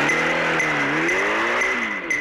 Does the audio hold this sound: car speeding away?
yes